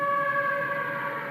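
A human voice imitates a siren with a held, tonal wail during live Chiefs–Ravens football play-by-play on third down, steady and fairly loud for just over a second.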